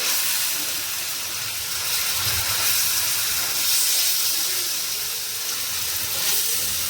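Rice batter for hariyali uttapam hits a hot tawa with a steady broad hiss and sizzle, continuous and fairly loud throughout, with no voices.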